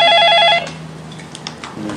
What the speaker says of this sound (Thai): ขออนุญาตรับโทรศัพท์สักครั้ง